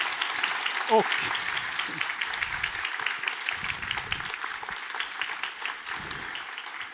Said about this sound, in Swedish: ni ska ha en stor applåd ska ni få utav hela stället